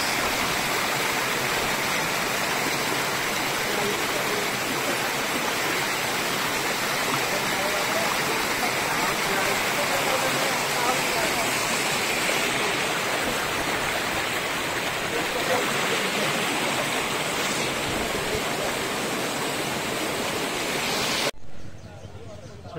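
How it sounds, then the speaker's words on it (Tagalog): Patungan Falls pours in a loud, continuous rush of falling water and stream flow heard up close, a dense roar that holds steady throughout before dropping off abruptly at the very end. "dito kami ngayon sa Patungan Falls."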